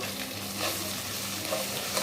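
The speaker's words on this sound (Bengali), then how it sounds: "এখানে আমি এখন ভালো করে লাড়াচাড়া দিয়ে নেব" Goat head meat with cumin powder and homemade garam masala being stirred in a frying pan, a dense continuous sizzle with soft scraping, no voices.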